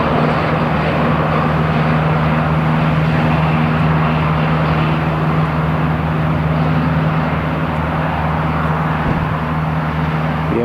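A Jet2 airliner at Newcastle International Airport gives off a steady, broad engine roar that holds at an even level throughout, heard from a distance with no talking.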